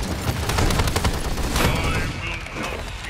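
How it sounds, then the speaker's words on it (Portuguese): Dense, loud automatic gunfire rattles continuously in the Paladins video game, rapid shots overlapping with a brief voice beneath. "o cara atirando"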